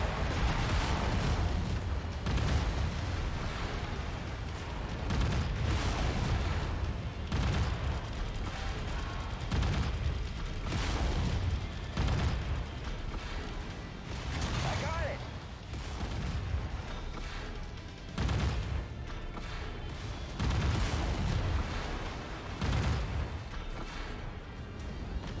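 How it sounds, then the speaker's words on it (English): Missile explosions in MechWarrior 5, a rapid series of heavy booming blasts roughly every second or two, loud and close, over rumbling mechanical background. "Incoming missile."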